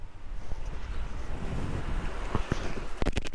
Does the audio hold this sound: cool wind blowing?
yes